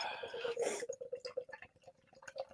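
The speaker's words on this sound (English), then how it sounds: "Pours in fairly thick and gloopy with a decently developing head." Thick, gloopy beer pouring into a glass, with wet glugging and dripping pulses in a quick, uneven rhythm, close and fairly quiet.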